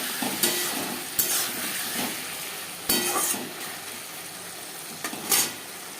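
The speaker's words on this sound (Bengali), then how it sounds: "3-4 মিনিট মিডিয়াম টু লো ফ্লেমে মশলা কষিয়ে নেব" Ginger paste, green chilli paste and garlic cloves sizzle with cooked tomatoes in a pan over medium-low flame for a fish curry, a steady fry broken by several sharp scrapes and clinks of a spoon stirring against the metal.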